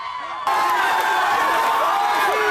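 Hundreds of students crowd outside a house, a loud, sustained wall of cheering and shouting voices that swells suddenly after a brief quieter moment and carries on continuously.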